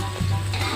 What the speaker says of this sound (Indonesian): Kita goreng bumbu baladonya.